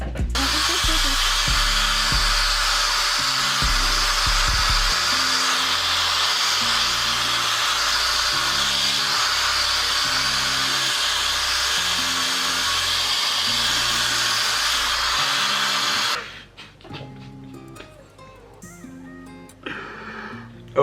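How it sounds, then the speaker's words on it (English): Handheld hair dryer blowing on natural hair in locs, a loud, steady, close whoosh that runs for about fifteen seconds before cutting off into quieter room sounds. "I'm literally gonna blow dry my hair."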